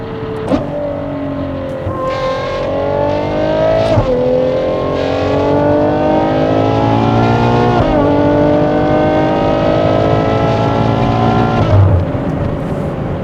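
A Novitec-tuned Ferrari Purosangue V12 with a Novitec exhaust revs loudly and steadily, its harmonic roar sweeping up and dropping back through several distinct pulls, close and continuous on empty streets in sunny weather.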